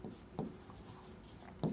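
A pen writing numbers on paper, a soft, close scratching with faint strokes and a couple of firmer taps, quiet and steady with no voice over it.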